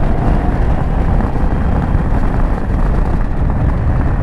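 Engine of a 2025 Indian Super Scout motorcycle pulling hard in third gear, a loud, steady, broadband roar with heavy wind noise, continuous throughout with no talking.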